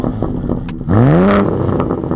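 A BMW M3 G80 fitted with a dÄHLer exhaust revs once, its rising aggressive engine note swelling over about half a second before dropping back, loud and close with a faint clatter beforehand.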